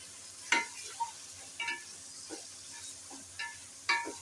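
Chicken, potato and cauliflower stirred in a pot with chopped tomato and green chillies, giving faint, irregular spoon scrapes over a soft, steady sizzle, with a few sharper clinks spaced through the stirring.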